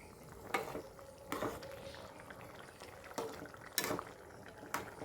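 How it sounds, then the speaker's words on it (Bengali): Curry gravy boiling in a pot for a raw banana and hilsa fish dish: soft, irregular bubbling pops and gentle gurgles over a quiet background. "ঝোলটা একদম ফুটে উঠেছে।"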